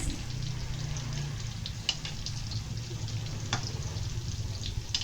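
Tofu frying in a pan with oil: a steady, close crackling sizzle throughout, with scattered sharper pops and spatters and no talking.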